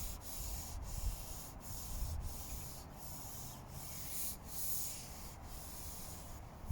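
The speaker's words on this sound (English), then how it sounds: "Giving it a scrub, and with the muck and the algae, it's like an abrasive on it" Scrubbing the wooden slats of a Victorian cast iron bench coated in muck and algae gives a steady, close rasping rub, with regular gritty strokes repeating about every second and no talking.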